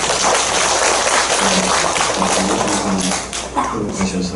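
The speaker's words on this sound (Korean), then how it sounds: "한번 박수로 환영하겠습니다" A church congregation applauding in welcome, dense clapping filling the room with some voices and a low hum underneath, tapering slightly near the end.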